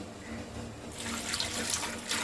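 Water poured from a tumbler into a large pressure cooker on a lit stove, holding peeled elephant-foot yam pieces for a tangy tamarind curry, a steady close splashing rush that swells after the first second and runs without pause, with no talk over it.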